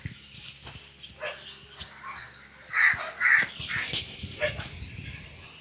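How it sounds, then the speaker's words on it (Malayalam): Dogs bark in short bursts at a rural temple, mid-distance, mixed with crows cawing through a noisy outdoor background. "ഇവിടെയും ഉണ്ട് ഇഷ്ടം പോലെ നായ്ക്കളും നായ്ക്കുട്ടികളും"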